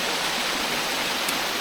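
A waterfall at Middle Black Clough gives a steady, even rush of falling water, heard from nearby without interruption and with no talk.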